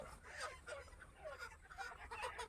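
Chickens at a farm being grabbed, weighed and loaded onto a waiting truck in dim light, giving faint, scattered squawks and clucks at a distance in a quiet setting.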